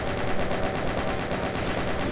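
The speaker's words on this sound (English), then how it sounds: "thing I don't use often enough is the chain gun" Chain gun from Doom 2 firing continuously, a loud, even stream of rapid repeating shots with no pauses.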